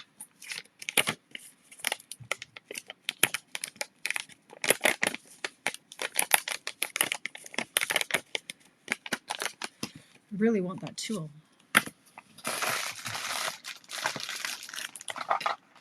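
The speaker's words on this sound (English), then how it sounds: "Just gonna crumple it." Cardstock paper is crumpled by hand, making a rapid, irregular series of close, crisp crackles and crinkles, with a person briefly talking partway through.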